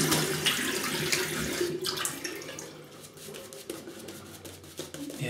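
Tap water runs steadily to rinse a razor after a shave with Portuguese shaving soap, a continuous close splashing rush that dips slightly midway and keeps flowing to the end.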